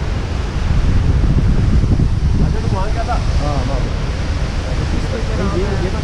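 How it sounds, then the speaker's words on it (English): Strong wind blasts across the microphone on the trail to Yosemite Falls, a steady loud roar filling the whole clip, with faint voices talking underneath. "Super windy."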